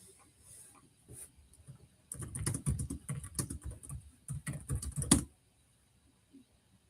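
Rapid keystrokes on a computer keyboard during a live online lesson, coming in irregular clattering bursts that are close and moderately loud, then dropping to quiet near the end.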